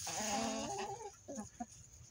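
A young rooster newly added to a flock of four-month-old hens joins their clucking in a backyard coop, a brief burst of close, overlapping throaty calls followed by a few short, separate clucks as it trails off.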